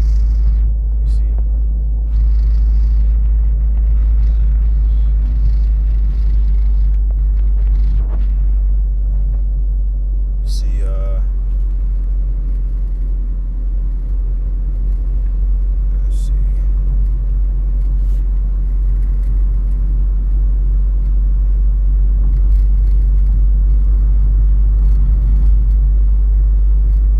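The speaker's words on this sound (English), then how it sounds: "I'm driving right now" A steady, deep engine rumble fills the cabin of a moving car, holding an even drone from start to finish with little change in pitch.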